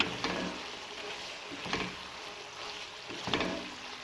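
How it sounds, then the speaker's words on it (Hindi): Chicken with carrots and bell peppers fries in a pan for macaroni, giving a steady soft sizzle with occasional scraping stir strokes. "इसको ज़्यादा नहीं पकाना, बस 2 मिनट के लिए इनको फ्राई करना है।"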